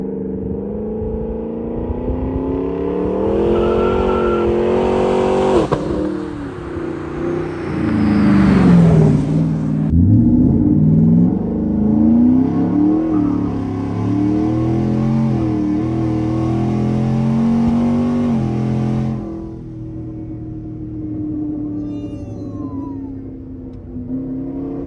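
A Ford F-150 Raptor engine revs hard and drops through paddle-shifted downshifts, its loud, close rumble rising, falling and blipping between gears before settling to a steadier drone, with no talk.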